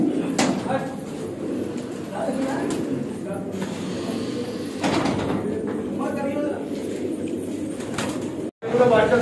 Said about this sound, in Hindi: देख अभी और कबूतर भी आया ऊपर।